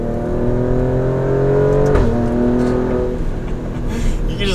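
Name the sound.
SUV engine accelerating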